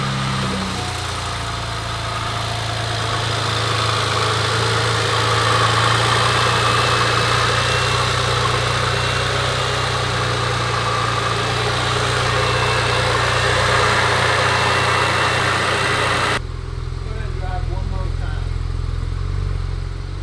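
A BMW 335i engine runs at a steady, loud idle close to the listener, holding an even drone for a long stretch before the sound abruptly shifts and quiets near the end.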